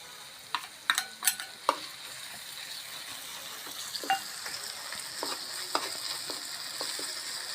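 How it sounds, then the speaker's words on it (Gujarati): Grated ginger frying in oil with cooked potatoes for a Gujarati methi-potato dish: a steady, soft sizzle with a few sharp spoon clinks against the pan near the start, then scattered lighter scrapes. "આદુને આપણે તેલમાં ફ્રાય કરી લઈશું પછી મિક્સ કરીશું આખામાં"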